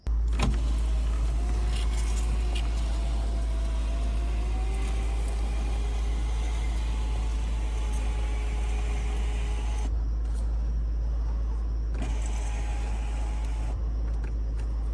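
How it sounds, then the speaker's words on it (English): The power sunroof of a 2007 Cadillac SRX runs with an electric motor whine and a mechanical hum at a steady level, with a hard stop near the ten-second mark and a short second burst a little later. "Let's see if I can get the sunroof to operate as it should."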